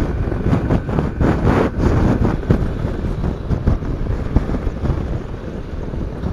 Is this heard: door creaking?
no